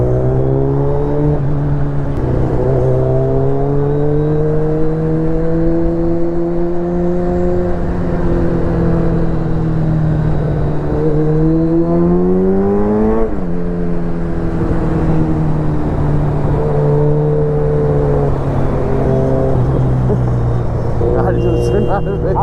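A Kawasaki dirt bike engine drones loudly and continuously, its pitch rising and falling through several revs with a sharp surge near the middle, while talk runs throughout.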